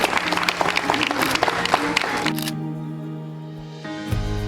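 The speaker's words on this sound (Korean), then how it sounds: "네, 박수 부탁드리겠습니다." Wedding guests clap at an outdoor evening wedding ceremony, a burst of lively applause that cuts off partway as a sustained music chord takes over and rings on to the end.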